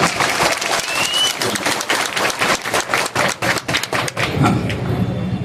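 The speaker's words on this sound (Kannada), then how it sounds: "ಮ್ಯಾಜಿಕ್ ಇಷ್ಟ ಆದ್ರೆ ಜೋರಾದ ಒಂದು ಚಪ್ಪಾಳೆ" An audience at a Ganesh Chaturthi magic show claps loudly, first as dense applause and then in a few rhythmic thumping beats before fading into crowd noise.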